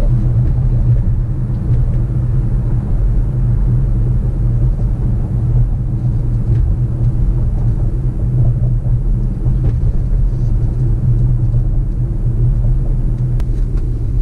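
A 2017 Audi Q5 drives over a bumpy road, giving a steady low cabin rumble of engine and tyre noise throughout, with no talking.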